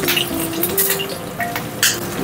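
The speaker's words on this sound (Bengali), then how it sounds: "এবার লঙ্কাটাও ফোড়ন দেব" Green chillies hit hot mustard oil already tempered with nigella seeds, giving a steady crackling sizzle with sharp spits and pops, close and fairly loud, punctuated by light utensil clinks.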